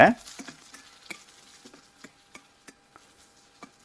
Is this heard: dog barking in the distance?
no